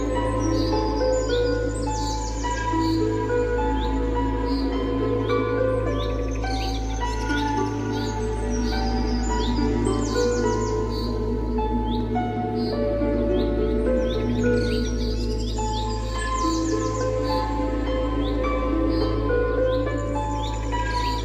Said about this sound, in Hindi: काकापू